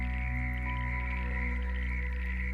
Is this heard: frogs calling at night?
yes